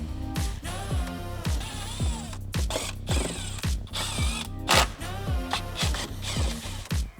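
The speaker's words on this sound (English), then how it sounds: "To remove the fender liner, we need to remove 8 8mm bolts." A ratchet wrench loosening 8mm fender liner bolts on a BMW M2 F87, a rapid rhythmic clicking of the pawl repeating in close, steady bursts with no talking.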